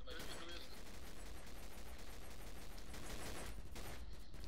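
Shotgun fire in the video game Double Action Boogaloo, dense overlapping blasts in a continuous noisy barrage, loud throughout, with voices faintly mixed in.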